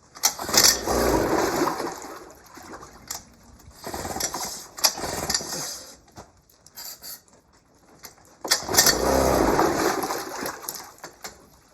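An old Mercury 110 9.8 HP outboard engine sputters and revs unevenly, surging loud in rough bursts then dropping back to a ragged, faltering run, as though it just fired and needs a carburetor cleanup.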